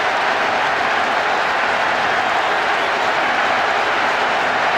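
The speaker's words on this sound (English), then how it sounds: "most of the crowd not happy about that goal" A large stadium crowd roars steadily throughout, a dense, continuous wash of cheering and noise in a PES 6 Real Madrid versus Barcelona football match, loud and unbroken with no clear talk over it.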